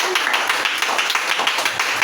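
Church congregation clapping to acclaim Jesus during a fasting and prayer service, a dense burst of many hands applauding together, loud and close.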